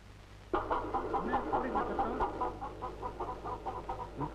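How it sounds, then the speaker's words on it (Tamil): A chicken clucks in quick, rhythmic bursts, close and clear, continuing steadily after a sudden start. "கோழி."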